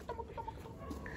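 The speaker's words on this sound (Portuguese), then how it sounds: "Olha lá a galinha." A loose hen clucks in a few short, soft bursts amid quiet outdoor background hum, fairly close with no voices over it.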